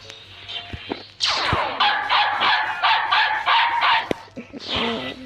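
A dog barking in the video game Meme Sea: a rapid burst of repeated yips and barks ending in a whimpering note, loud and close over a faint background hum.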